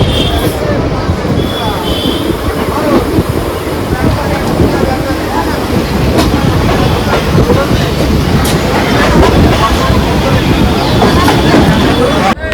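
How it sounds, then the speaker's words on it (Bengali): Intercity express train rolling into Rampurhat Junction station, a steady loud rumble with rail clatter throughout, heard from on board with faint background voices. "ট্রেন এখন ঢুকছে আমাদের বন্ধুরা রামপুরহাট জংশন।"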